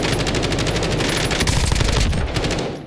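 Sustained automatic gunfire from a Call of Duty match with a Kilo rifle build, loud and dense with rapid overlapping shots that run almost continuously before tapering off at the end.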